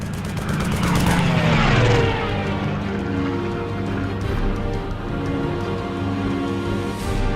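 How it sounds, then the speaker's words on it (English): German fighter plane in the video game Lost Horizon roaring past close and loud, a steady propeller engine drone with a sweeping pass early on and rapid gunfire bursts at the start. "A German fighter plane? He just shot at us!"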